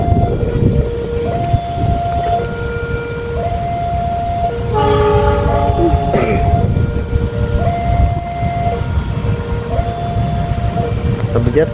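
A train passes through Cirebon, Indonesia, with a loud, steady rumble of wheels and cars. A two-tone horn or warning signal alternates over it throughout, and voices can be heard in the background.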